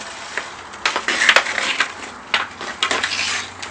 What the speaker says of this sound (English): Practicing some hockey stick handling on his backyard rink that he has